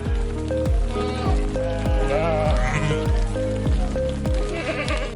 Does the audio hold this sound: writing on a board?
no